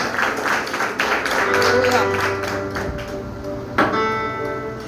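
A church congregation claps in a rhythmic patter beneath a preacher's voice.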